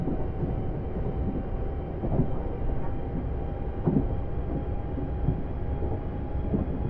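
Class 450 electric train running on the Guildford loop in Train Simulator 2017, a steady rumbling cab drone with a faint whine and occasional light clunks, continuous and fairly even throughout.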